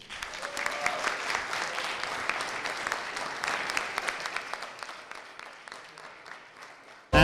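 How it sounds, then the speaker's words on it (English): An audience at an international university startup competition applauds in sustained, steady clapping for about seven seconds, dense and fairly close, tapering slightly before an abrupt louder burst at the very end. "Round of applause, please."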